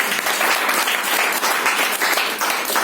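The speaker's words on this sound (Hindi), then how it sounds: "तालियां तो बनती है इन लोगों की" Steady, loud applause from an audience at a marketing training session held in a hotel, a dense continuous patter of clapping that lasts throughout without letting up.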